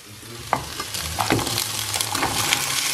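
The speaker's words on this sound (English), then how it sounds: "Stir frying the onion, and then we add the sea pumpkin." Onion and sea pumpkin stir-fried in a pan, a steady close sizzle with scraping, clacking stirring strokes across the hot surface, growing slightly louder as it goes.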